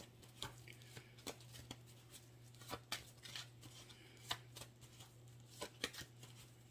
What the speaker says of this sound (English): Oh, these cards are so stuck together.